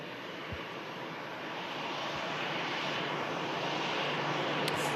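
An Airbus A319 in from Brussels arrives at Manchester Airport as a faint, distant, steady engine roar that swells gently, with a few soft thumps in the background.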